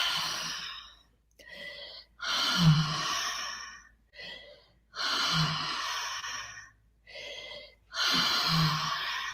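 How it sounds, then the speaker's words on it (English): Slow, deep breaths during a relaxation breathing exercise, three long airy exhales each preceded by a shorter intake, close and clear with quiet pauses between. "Let the exhale flow."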